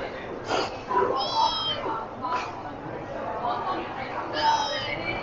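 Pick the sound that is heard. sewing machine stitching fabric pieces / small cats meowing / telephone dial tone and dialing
small cats meowing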